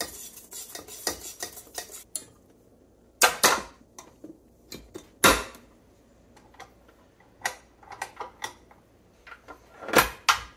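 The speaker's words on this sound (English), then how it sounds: "I'm just gonna mix that up a little bit to make everything moistened before I start the mixer" Ingredients and salt stirred together in a bowl, light scattered clicks and scrapes from a utensil, faint and irregular with quiet gaps between them.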